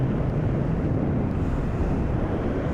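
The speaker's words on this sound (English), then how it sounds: "And it's windy." Strong wind roars steadily across the microphone during a scooter ride, a loud, continuous buffeting rumble with no break.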